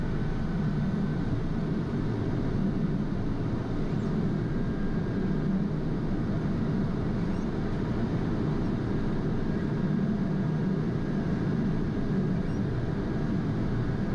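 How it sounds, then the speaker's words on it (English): Pilatus PC-12 turboprop taxiing toward the runway, a steady close engine drone with low rumble that holds evenly throughout, no voices. "We're taxiing to runway 10."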